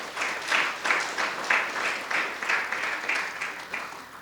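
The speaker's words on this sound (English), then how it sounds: "I think that deserves a hand of applause." A crowd applauding at a laptop launch event in Zimbabwe, a dense run of clapping that swells and eases in rhythmic waves, moderately close and without talk.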